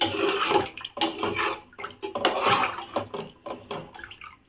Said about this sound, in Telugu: 3 కప్పుల రైస్కి 6 కప్పుల వాటర్ కొలిచేసుకున్నాం కదా, ఆ వాటర్ వేసుకుందాము